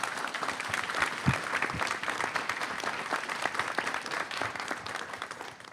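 Steady applause from a lecture-series audience for a president, a broadband wash of many hands clapping at a fairly even level, faint and somewhat distant, tapering slightly at the end.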